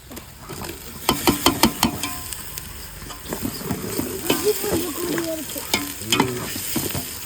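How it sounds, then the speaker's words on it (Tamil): Tomatoes frying with ginger, garlic and onion for mutton fry produce a close, busy sizzle punctuated by repeated clanks and scrapes of a ladle stirring against the pan. "இஞ்சி பூண்டு நல்லா வதங்கிடுச்சு இப்போ தக்காளி சேர்த்துக்கிறோம்"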